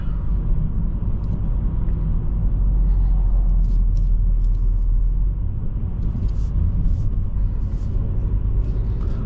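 A 2026 Hyundai Sonata N-Line drives along a back road, a steady close interior rumble of engine and tyre noise that swells slightly midway and holds constant throughout.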